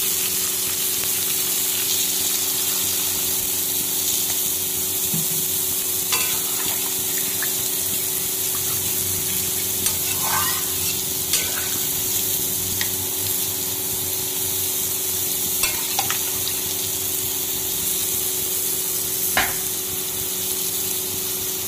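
Water hits hot fried masala in oil for a Bengali fish curry, a loud, steady hiss that runs on and on, broken by scattered small pops and clicks.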